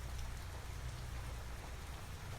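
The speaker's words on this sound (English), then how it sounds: "the rain on the roof of the cab and the doors" Steady rain drums on the roof of a tractor cab in Farming Simulator 25, a continuous close-up patter with a low rumbling undertone and no voices.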